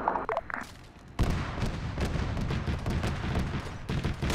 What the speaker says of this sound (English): Shots coming from somewhere anywhere.